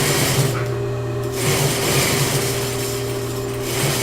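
Sewing machine stitching fabric along a straight edge for fabric flowers, running steadily with a continuous whirring hum and regular mechanical ticking throughout, fairly close and loud.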